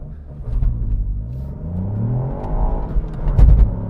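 A Ford Fiesta ST engine revs hard and pulls away, its pitch climbing steadily through the gear, close and loud, with no voices.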